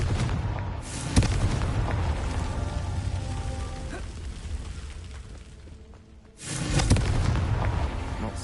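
Booming Confringo blasting spell explosions in the video game Hogwarts Legacy: a loud burst that rumbles and decays over several seconds, then drops to near silence before a second heavy blast erupts near the end.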